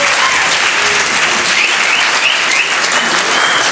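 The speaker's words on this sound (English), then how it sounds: "A round of applause," Dense, loud applause from a synagogue audience fills the whole stretch, steady and sustained with no break.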